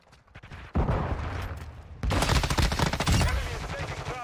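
Video-game gunfire from an M13 rifle, loud rapid bursts at close range, a short volley followed by a longer sustained automatic stream with overlapping shots and battlefield noise.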